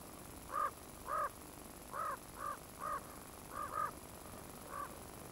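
Ravens in the snowy winter landscape of Yellowstone National Park, Wyoming, give a series of about eight hoarse caws, some paired and closely spaced, moderately distant over a soft wind hiss.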